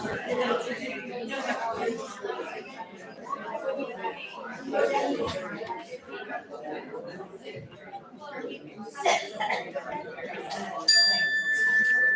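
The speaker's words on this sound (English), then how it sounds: "It's a yoga chime." Amid chatter and laughter at a community meeting, a yoga chime rings out once near the end with a bright, clear metallic tone that sustains and rings on.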